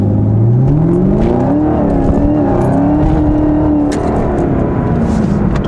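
A Chevrolet Camaro ZL1 driven in sport mode, its engine droning loudly and steadily from inside the car, revving up through rising tones and settling into a sustained hum, no talking.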